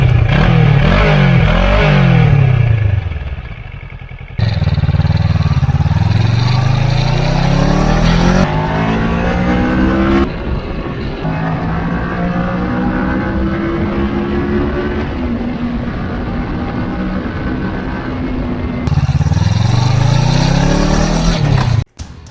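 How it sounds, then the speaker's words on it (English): Stock exhaust on a Kawasaki ER-6F motorcycle revving up to high RPM, a loud, close engine note that climbs and falls through several rising sweeps with brief drops between pulls. "The stock exhaust, it's quiet, but when the bike reaches higher RPMs,"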